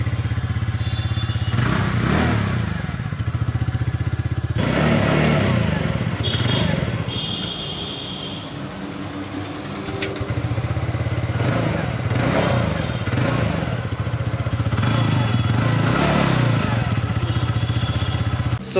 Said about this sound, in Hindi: अभी इसका एग्जॉस्ट सुनते हैं